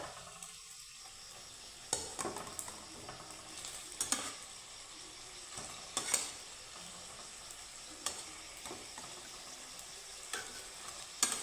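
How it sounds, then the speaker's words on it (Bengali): Steady sizzling of flour dough balls frying in hot oil, punctuated by occasional sharp clicks and taps at regular intervals, with no voices. "এটাকে আমি আর একটু ভেজে নেবো"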